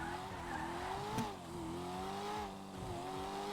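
A stock-looking TRD car fitted with an HKS intercooler drives in GTA V, its engine holding a steady, rising drone with tire squeal and skidding mixed in, fairly loud and continuous with no talking.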